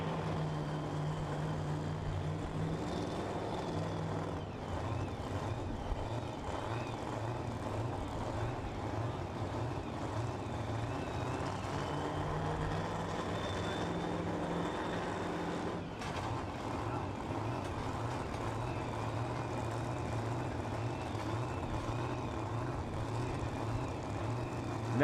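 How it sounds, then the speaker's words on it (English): A super modified two-wheel drive pulling truck at a pulling event, its engine a continuous deep, rough roar at fairly low level that holds steady across the whole stretch with slight shifts in pitch. "puller number one in our super modified two-wheel drive trucks presented by Optima Batteries."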